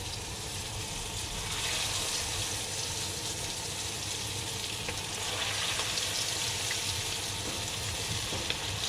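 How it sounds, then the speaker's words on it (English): Squid coated in tempura batter frying in hot oil, a steady, loud, close hiss and crackle of sizzling bubbles running unbroken throughout, with no talk. "Alright, got our squid there cooking"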